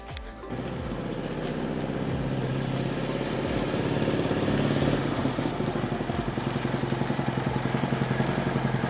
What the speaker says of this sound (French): Vous avez devant vous une Honda CB 125 K5 de 1972.